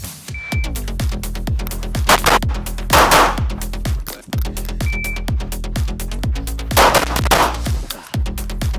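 Live-fire shooting at two targets through a window position, with sharp, loud gunshots in quick pairs and strings repeating throughout, each crack followed by a short echo and no talk.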